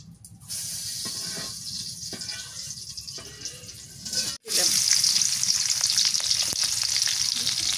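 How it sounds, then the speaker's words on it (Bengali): Jute leaves fry in soybean oil with a steady, close sizzle and hiss, broken by a brief drop in the middle before the frying surges back louder, with faint stirring scrapes; no one speaks. "এখন পাটের শাক ভেজে নেই, সয়াবিন তেল দেই করে।"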